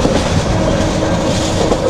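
A Jayentika Express train running from Dhaka to Sylhet, its wheels beating a steady clickety-clack over a constant loud, close rumble, with no one talking.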